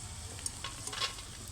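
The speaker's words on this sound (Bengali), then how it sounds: "বাদামটা লাল লাল করে ভাজতে হবে।" Peanuts frying and being stirred in a hot pan, a steady soft sizzle with scattered light scrapes and ticks of the nuts shifting, fairly quiet and close with no voices.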